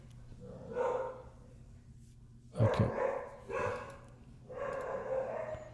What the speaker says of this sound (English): I got 4 puppies and they get excited.